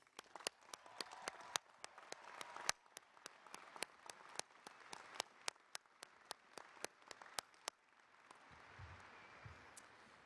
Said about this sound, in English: Please join me in a round of applause to honor and congratulate today's honorees